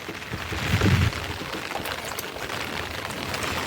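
Steady monsoon rain in Wadhwan, Surendranagar, falls with a broad, even hiss and patter on surfaces, a brief heavier splash near the start.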